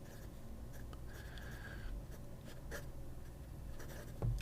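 Parker Duofold Jasper Red fountain pen with a number 6 fine steel nib scratching across paper, a soft continuous scratchy rustle with brief pen strokes, close and quiet, with no talking.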